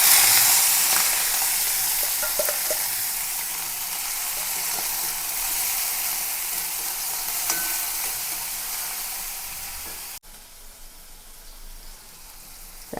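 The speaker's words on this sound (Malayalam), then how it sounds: "നമുക്കതിലേക്ക് ഉള്ളി, വെളുത്തുള്ളി, 1 പച്ചമുളക് ഇട്ട് കൊടുക്കാം." Onion, garlic and a green chili fry in oil in a pan with a soft, even sizzling hiss, fairly quiet and steady, before cutting off abruptly near the end.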